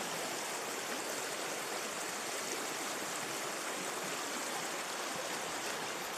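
Steady rushing water of a mountain stream in the Planchesk gorge, Seversky District, Krasnodar Krai, Russia, flows continuously, a broad even hiss with no voices.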